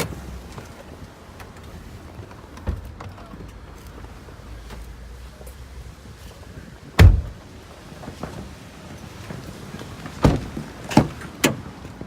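Nissan Pathfinder with a V6 petrol engine: a quiet outdoor hush broken by a sharp thump of a car door closing, followed later by a few clunks and knocks as the bonnet is released and lifted, fairly close and without talk.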